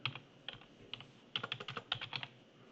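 Quick bursts of keystrokes on a computer keyboard while working in AutoCAD, with a short cluster of taps, a pause, then a rapid run of clicks; close and fairly quiet, with no voices.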